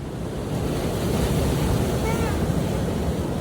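Steady roar of sea waves breaking on a shore, with wind buffeting the microphone throughout.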